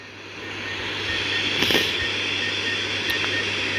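A fixed-wing aircraft in a video game taxis on its belly with no wheels, giving a steady engine drone with a scraping hiss and a few brief clanks, with no voices.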